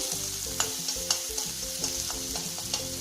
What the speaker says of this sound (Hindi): अब हमारी वेजिटेबल्स भून गई हैं।